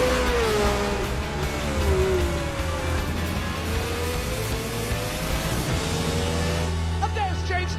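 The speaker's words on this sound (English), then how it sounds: "Lauda's now lapping faster than Reutemann and closing the gap ahead." Formula One race cars in the 1970s, a Ferrari among them, lapping a circuit in a film recreation: a constant loud, high engine whine with shifting pitch as cars pass, heard without interruption under an announcer's voice.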